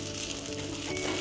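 Fish searing in a hot pan, browning on one side, with a steady close sizzle and no voices.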